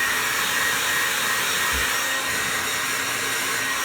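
A hair dryer blows with a steady, loud whooshing roar for a few seconds while freshly colored hair is dried with a small brush, and no one speaks.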